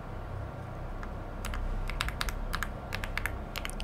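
Someone types a console command on a computer keyboard for the game Cronos The New Dawn, with a quick burst of crisp, close key clicks in an irregular rhythm over a low, steady background hum.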